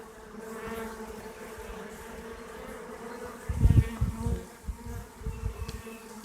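A honey bee swarm carrying several virgin queens hums in a dense, continuous drone close by, with louder buzzing bursts as bees pass near in the second half.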